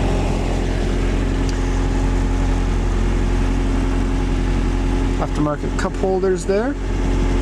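A 1986 Toyota Sprinter Trueno AE86 GT-Apex idles at a little over 1,000 rpm, a steady, even engine hum that runs throughout, with someone speaking briefly near the end.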